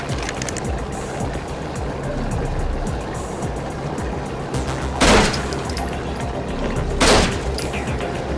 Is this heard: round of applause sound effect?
no